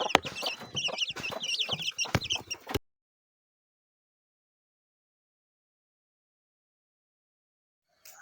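Nine twenty-five-day-old chicks chirp and peep in a busy, close cluster for about three seconds before the sound cuts off to silence, with a faint rustle at the very end.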